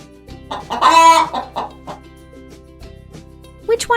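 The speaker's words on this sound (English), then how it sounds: "Chicken." A chicken clucks close by in a quick series of sharp clucks with one longer squawk, ending in a few more brief calls.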